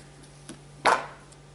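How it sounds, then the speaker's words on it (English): A knife slices through an eggplant on a cutting board, a soft tap followed by one sharper, close cut standing out against a quiet kitchen background. "I'm going to slice the eggplant into slices about"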